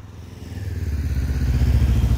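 A TARO GP1 400 sport motorcycle engine drones steadily while being ridden in town, its low pulsing note rising and growing louder over the first second, then holding a close, throbbing rhythm with no voices.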